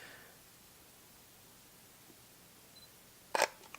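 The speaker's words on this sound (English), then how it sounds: "this yellow button here, is the shutter button. Let's try and take a picture here." A Sony NEX-5T camera sealed in an underwater housing fires its shutter once near the end, a short close mechanical click burst after a few seconds of quiet room hiss.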